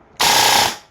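A Poseidon Cerberus airsoft rifle fires one loud, steady full-auto burst of about half a second, a dense buzzing rattle that stops abruptly and rings out briefly.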